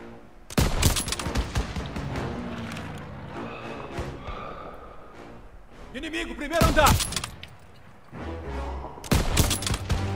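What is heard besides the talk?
gunfire in a video game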